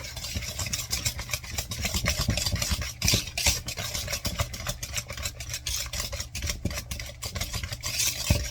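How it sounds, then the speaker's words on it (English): Egg nog cream pie filling whisked in a pot until thick, a continuous rapid scraping and swishing with a low steady hum beneath, close and even throughout. "now we're going to whisk this until it gets thick"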